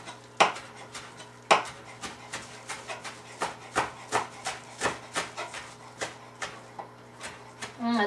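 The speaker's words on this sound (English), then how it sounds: "So give it a rough chop." Basil leaves get a rough chop on a cutting board. A knife strikes the board in an irregular, steady rhythm of about a dozen crisp, close taps, and a couple of louder hits come early on.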